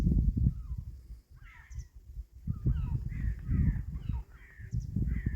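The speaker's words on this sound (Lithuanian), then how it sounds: "Kormoranai." Cormorants in Finland give a series of hoarse, croaking calls from a moderate distance over a heavy low rumble of wind or engine noise.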